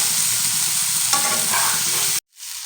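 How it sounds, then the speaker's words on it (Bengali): Eggplant slices fry in hot oil over high to medium heat, giving a loud, steady, close sizzle that cuts off abruptly near the end before a faint hiss returns. "হাই টু মিডিয়ামে রেখে বেগুনগুলো ভাজতে হবে তো আস্তে আস্তে কত সুন্দর ভাজা ভাজা হয়ে আসছে"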